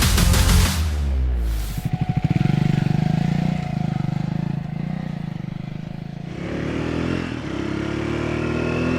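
A Triumph Scrambler 400X motorcycle rides on road and off-road, its engine loud and close with a steady throbbing drone, a sharp revving surge near the start and a further rise toward the end.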